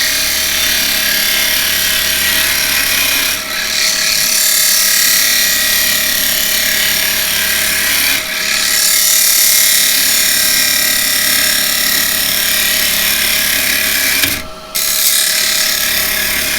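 A carbide tool cutting zebrano wood on a spinning lathe, a loud continuous rough scraping whir over the motor hum, broken by a few short pauses as the tool lifts off, close up.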